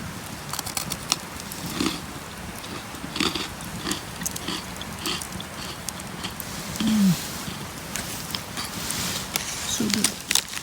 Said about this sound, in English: You can hear me crunch it